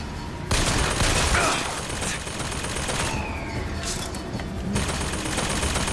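Sustained gunfire from Bioshock Infinite played in VR roars in thick continuous bursts, loud and close, with brief sharper cracks mixed into the wash of shots.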